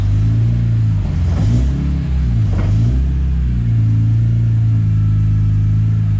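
A BMW E30 fitted with an S54 engine idles in gear with the brakes held, a loud, steady low rumble that dips and swells briefly around the second and third seconds before settling back into an even drone.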